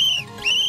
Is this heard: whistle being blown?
yes